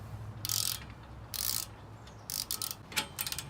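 Bolts being tightened on drift trike handlebars with a ratcheting tool, giving several short bursts of fast clicking separated by brief pauses, close and fairly quiet with no talk.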